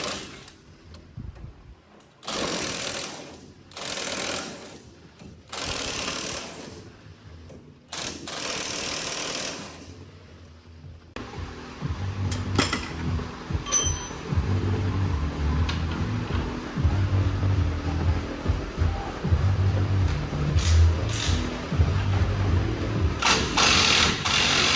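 An impact gun working on a Dodge Ram 1500 fires in four or five loud, separate bursts of a few seconds each. A steadier mechanical clatter and shop noise follows.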